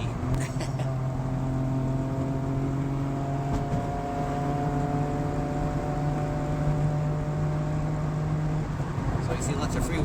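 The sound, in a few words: SAAB 95 car freewheeling downhill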